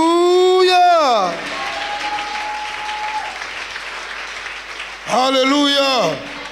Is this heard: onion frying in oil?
no